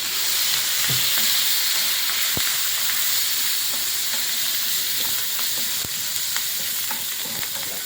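Curry leaves hit hot oil in a bitter gourd pickle, giving a loud, steady frying sizzle and hiss that runs the whole time, with occasional small pops and stirring knocks close by.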